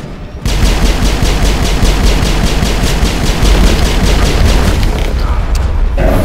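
Assault rifle fire from the video game Mass Effect: a loud, sustained stream of rapid, evenly spaced shots with booming low end, starting abruptly and continuing almost without pause to the end.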